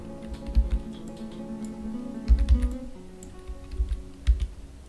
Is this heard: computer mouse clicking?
yes